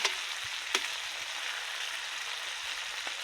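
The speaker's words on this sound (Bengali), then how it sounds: "আর বাকি মশলা দিয়ে এখন আমি মাংসটা কষিয়ে নেব।" Chicken pieces sautéing with spices in a pan for chicken kosha, a steady close sizzle with a few faint clicks of stirring throughout, no talk.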